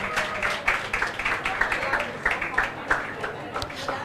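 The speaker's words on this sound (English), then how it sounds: "Can we continue to clap for them" Audience applause at a women's economic assembly side event during a mining conference, a steady wash of clapping with sharper individual claps standing out, mixed with crowd murmur and voices underneath.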